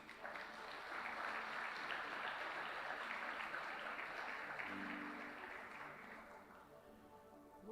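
A church congregation applauds together during a service, a dense, steady wash of clapping that holds loud for several seconds and then slowly fades toward the end.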